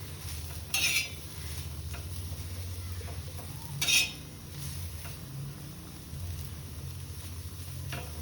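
Sliced bitter gourd fries in a pan with a low, steady sizzle, broken by two sharp metallic clinks of a spoon stirring and scraping the pan.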